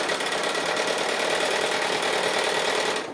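A sewing machine stitches along the bottom edge of a fabric pocket, running in a steady, close, fast mechanical whir for about three seconds with no pause, then slowing at the very end.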